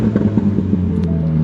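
A car engine idling and blipping in neutral with a burble-tuned exhaust, a low rumbling throb with small uneven pulses, close and fairly loud.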